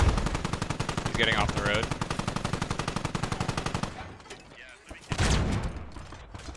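A .50 caliber machine gun fires in the game Squad, a long, loud, rapid rhythmic burst of evenly spaced shots lasting several seconds, then stopping. Brief talk and scattered battle noise follow.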